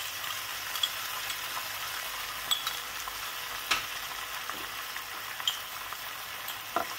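Paneer cubes stirred in a pan with soy sauce, red chilli sauce and tomato ketchup give a continuous sizzle, punctuated by occasional light clinks of the spoon against the pan, with no voices.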